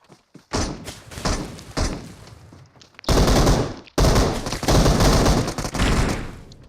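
Gunfire in the video game PUBG: dense, loud bursts of automatic shots and thumps in rapid succession, filling most of the clip with brief gaps between volleys.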